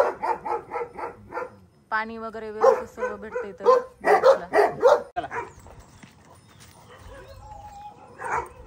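Several dogs bark, yip and whimper at a dog boarding house in Latur, in close bursts of rapid barking with quieter gaps, while someone talks between and over them.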